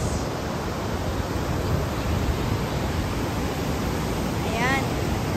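Heavy cascading water at Montmorency Falls pours in a constant, loud broadband roar that fills the whole stretch, with a brief faint chirp near the end and possible voices buried in the noise.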